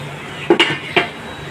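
A metal lid is set down over a cooking pan of potol dorma (stuffed pointed gourd) on a gas stove, giving two quick, close clanks about half a second apart against a quiet kitchen hum.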